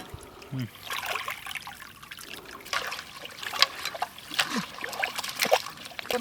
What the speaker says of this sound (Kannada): ಫ್ರೆಶ್ ಆಗಿ ಹರಿತೀರ ನೀರು.